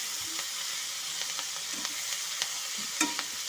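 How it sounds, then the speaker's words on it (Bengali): Aubergine and spring onion greens seasoned with salt and turmeric fry in a pan over low to medium heat, giving a steady close sizzle broken by a few sharp clicks from stirring. "এখন দিয়ে একটু ভাজা ভাজা হতে দেবো"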